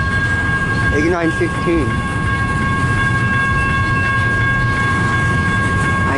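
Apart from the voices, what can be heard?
CN 533 northbound local freight train passing in Richmond, Michigan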